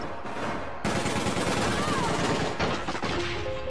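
Dense, loud gunfire in the online shooter APB Reloaded: sustained automatic bursts from about one second on, overlapping and continuous, with a brief lull near the end.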